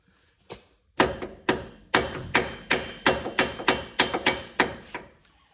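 A hammer striking a steering knuckle on a 2nd gen Cummins truck: about a dozen sharp metallic blows at close range, in a quick, slightly uneven rhythm after a single early hit, with no talking.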